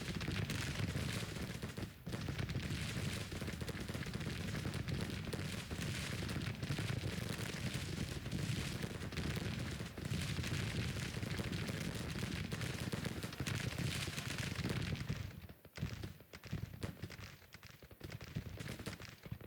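Repeated cannon fire from Civil War artillery in the strategy game Grand Tactician: The Civil War, a dense, continuous rumble of booming shots and battle noise that runs steadily, then briefly thins near the end.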